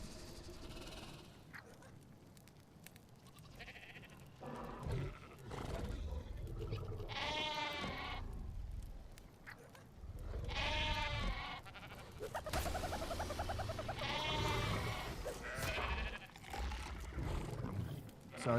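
Sheep bleat repeatedly in the video game ARK Survival Ascended, with several wavering calls spread across the stretch over a low background of game sound. A voice talks faintly in places.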